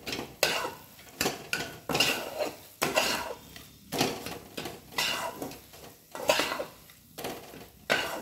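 A spoon scrapes and clinks around a bowl, mixing powdered milk into the mixture for white sugar naru, in a steady run of repeated strokes with short pauses, close and fairly loud with no talking.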